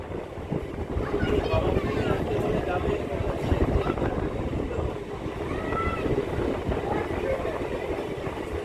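A train rolls into Krishnanagar City Junction station with a steady low rumble and rattle of wheels and carriages plus wind buffeting the microphone, loud and close throughout.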